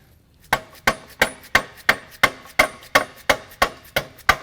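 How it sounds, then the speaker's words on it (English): A hammer taps gently on a rusted bearing of a Tilmor Power Ox during assembly, eleven times in a steady, even rhythm, each strike sharp and close with a short ringing decay. "grab your hammer to tap on it if it sticks"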